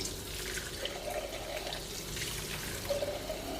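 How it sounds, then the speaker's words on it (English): Steady running water from a tap while cups are washed out at a sink, a continuous close trickle and pour with faint clinks now and then, heard without any talking. "So as I wash out these cups"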